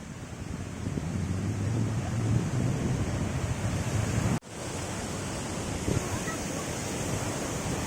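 Mountain stream rushing steadily beside a North Sikkim road at Myanchu, a broad continuous roar mixed with wind buffeting the microphone, briefly cut off midway.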